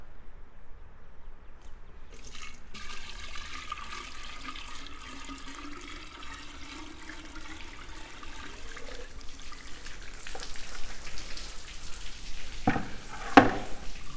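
Water rushes and gurgles past the closed flap of a sewer backwater valve during a demonstration, a steady loud flow with sputtering surges and a sharp clatter near the end.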